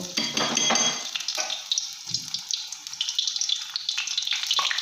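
Battered vegetable fritters frying in hot oil give a close, steady crackling hiss that never lets up, with no voices over it.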